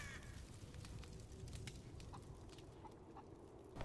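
A chicken thrown off a bridge in a video game clucks faintly and repeatedly over a steady, noisy game background for a few seconds.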